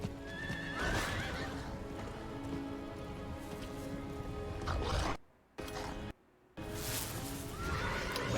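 Roach, a horse mount in the video game Diablo 4, neighs and whinnies while hooves clip-clop steadily, with brief dropouts to near silence midway before the hoofbeats resume.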